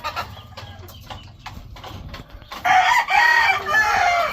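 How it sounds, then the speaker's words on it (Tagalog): Breeding hens on a game farm cluck and squawk nearby, the calls scattered at first and then growing louder and more insistent in a noisy burst. "Nag-iingay na ang ating mga inahin."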